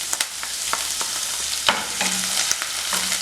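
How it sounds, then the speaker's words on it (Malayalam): Chopped ginger, garlic and green chili sautéing in hot oil for soya chunks roast, a continuous close sizzle with several scraping stirs and a couple of sharper clinks, no voices. "അതിലേക്ക് നമുക്ക് ചെറുതായി കട്ട് ചെയ്ത് വെച്ചിരിക്കുന്ന ഇഞ്ചി, വെളുത്തുള്ളി, പച്ചമുളക് ഇതെല്ലാം ചേർത്തൊന്ന് വഴറ്റിയെടുക്കുക."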